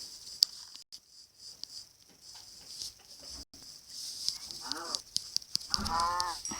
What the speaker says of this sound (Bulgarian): Просто крава.